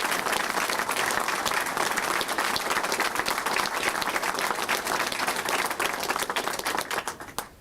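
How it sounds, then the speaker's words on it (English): A crowd at a Sasol company announcement gives a long, steady round of applause, dense and even throughout before thinning out at the end, with no speech over it. "yet another great round of applause"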